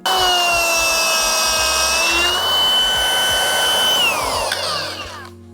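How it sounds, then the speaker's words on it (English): A loud, high-pitched whine from a small die grinder grinding metal runs steadily, dips in pitch as the load changes, then spins down at the end. "So if we have a die grinder, might as well use it."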